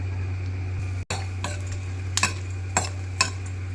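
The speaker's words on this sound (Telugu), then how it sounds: "మనం ఇప్పుడు చల్లమిరపకాయలు వేయించుకుందాం." Sun-dried buttermilk chillies frying in hot oil on a stove give a steady close sizzle with a brief dropout, then a few sharp scraping stirs of a spoon near the end.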